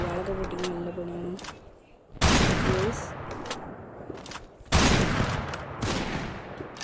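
Gunfire from the Free Fire video game: two loud, dense bursts of rapid shots at close range, each followed by a decaying rattle, with quieter game sounds in the gaps.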